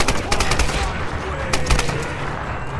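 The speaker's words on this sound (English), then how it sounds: "eat grenade, you filthy animal" Rapid gunfire and a grenade blast from the Tomb Raider video game, loud bursts of repeated shots crackling densely throughout.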